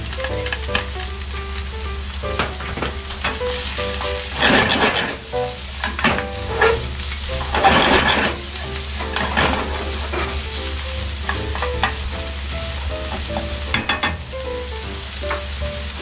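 Vegetables stir-fried for yakisoba, a loud continuous sizzle broken by repeated scraping and tossing bursts of a spatula against the pan, close and busy throughout.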